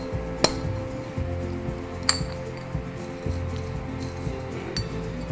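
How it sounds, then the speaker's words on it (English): New wheel bearings test-fitted onto a new spindle on a 1997 Land Cruiser FZJ80, with a few sharp metallic clinks and light taps close by over a low steady hum. "Test fit the new bearings on the new spindle to make sure that they'll go in."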